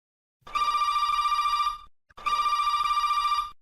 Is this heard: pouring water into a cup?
no